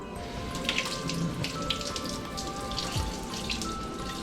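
Steady running tap water splashes continuously over kingfish fillets being rinsed one by one in a sink, a close, even hiss with faint dripping and small clinks and no talking.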